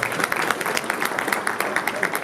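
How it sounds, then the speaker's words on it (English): Guests at an interfaith unity dinner at the Islamic House of Wisdom give a brief, moderate round of applause, a scattered patter of clapping in a room. "Please give yourself a round of applause."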